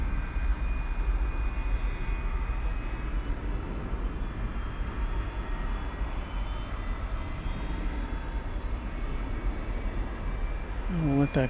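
Turkish Airlines jet, Flight 192 bound for Istanbul, moving on the ground at DFW airport at night, a steady low engine rumble and roar holding throughout at moderate distance, with faint background noise.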